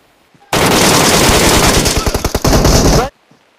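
Loud, sustained automatic gunfire from a machine gun in the PUBG Mobile battle royale game, a continuous roaring burst of about two and a half seconds that breaks into rapid distinct shots near the end, starting and stopping abruptly.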